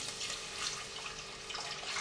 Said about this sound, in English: So there's a pint of milk going in there.